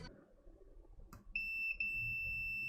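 A multimeter on continuity test beeps during repair of a dead Asus X405U laptop with a suspicious charger, a shrill steady tone cutting in after a soft click, briefly dropping, then resuming.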